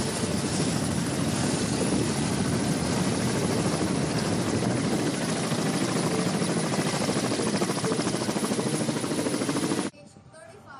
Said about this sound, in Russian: работа отечественного экипажа поисково-спасательного вертолета